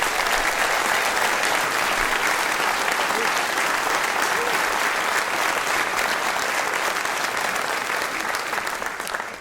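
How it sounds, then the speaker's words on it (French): Large audience applauding at a New Year's wishes ceremony in Mennecy, 2016, a loud, sustained, dense clapping that holds steady for nearly ten seconds before beginning to taper at the end. "Je crois qu'ils vont mériter que vous les applaudissiez encore"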